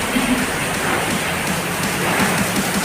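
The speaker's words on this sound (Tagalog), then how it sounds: "malakas ang ulan, malakas ang kidlat, kaya brownout." Heavy rain pouring steadily during a thunderstorm brownout outside a gym, a dense continuous hiss of downpour with no talk.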